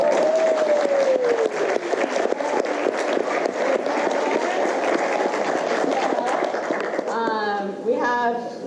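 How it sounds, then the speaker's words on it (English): An audience at a literary reading event breaks into sustained, dense clapping for about seven seconds, loud and close. A voice rises over the tail end. "Everyone give them a big round of applause."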